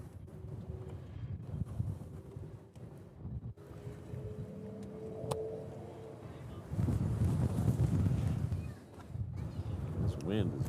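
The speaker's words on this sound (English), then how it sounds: "This wind is vicious." Strong gusty wind buffets an outdoor microphone near an airfield in Honolulu, Hawaii, a steady low roar that swells noticeably louder midway, with a faint airplane-like tone passing through.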